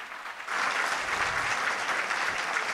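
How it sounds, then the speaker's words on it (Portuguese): An audience applauds a university lecturer at a talk on autism inclusion, a steady wash of clapping that swells in after half a second and holds evenly at moderate volume. "Uma salva de palmas"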